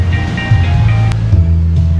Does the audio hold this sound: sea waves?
yes